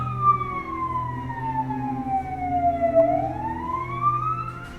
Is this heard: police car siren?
yes